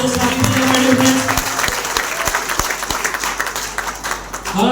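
Loud applause from an audience at a stage program in Palanpur, steady dense clapping running the whole way with a faint voice near the start.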